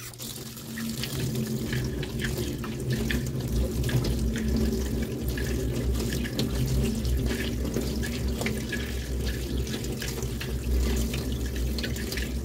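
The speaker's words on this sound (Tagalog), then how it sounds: "hugasan muna natin dito sa gripo" Steady running tap water splashes continuously into a sink as vegetables are washed, a constant rushing wash with faint irregular clinks, no voices.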